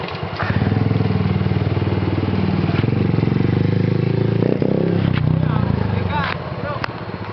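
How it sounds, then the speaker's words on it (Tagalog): A motorcycle engine roars loudly and steadily nearby, revving up and down with a rough putter throughout. "Ayun yung motor."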